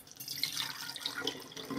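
Homemade apple scrap vinegar pours briefly into a jar, a short splashing trickle with light bright drips, close and fairly quiet, with no talk.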